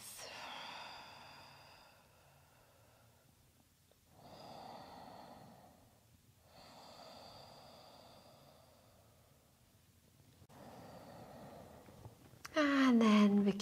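Slow, deep yoga breaths during a Hatha flow, with several long, soft inhales and exhales separated by quiet pauses, close and gentle, then a sharper breath at the end.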